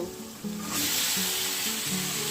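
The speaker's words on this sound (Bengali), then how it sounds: "দেখুন আমার তেলটা ছেড়ে দিয়েছে আমি এবার দিয়ে দেবো মাংস" Mutton pieces dropped into hot oil with cooked-down spice masala in a pan, the sizzle swelling suddenly into a loud, steady hiss that continues to the end.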